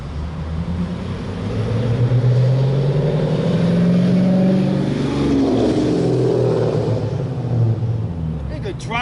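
A car drives around in circles, its engine rumbling and revving steadily throughout, fairly loud and continuous with a rising pass in the middle.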